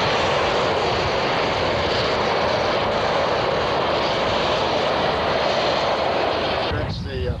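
An airplane passes overhead during a barge trip through the French countryside, a loud, continuous broadband roar that holds steady before dropping off abruptly near the end.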